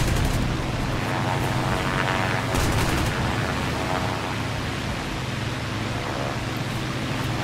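A Yak-9T fighter fires its aircraft guns in War Thunder: sustained loud cannon and machine-gun bursts run over a dense engine roar and wind noise, with no pauses.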